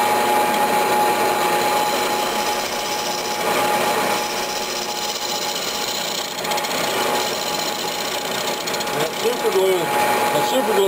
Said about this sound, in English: I'm just doing that with some planing cuts.